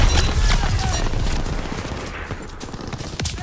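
Machine guns firing on a beach during a D-Day landing in Call of Duty: WWII, a dense, continuous rattle of rapid gunfire with loud battle noise throughout.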